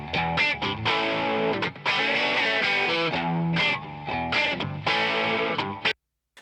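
Electric guitars played alone through distortion and effects processing with light reverb, loud strummed chords and sustained notes in a steady rhythm, stopping abruptly near the end.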